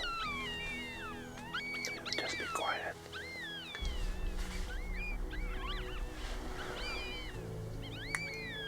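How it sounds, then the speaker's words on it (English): Several high, wavering yelping calls of jackals in Namibia ring out repeatedly over a steady low rumble, with a hushed voice speaking briefly in between. "We can hear the jackals."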